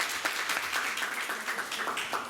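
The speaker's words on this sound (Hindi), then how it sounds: "और मैम के लिए तालियां प्लीज" Classroom applause for a teacher during an economics class, a short burst of many hands clapping steadily at moderate distance, with no voices over it.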